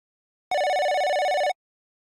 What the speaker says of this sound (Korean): 그날 전화벨이.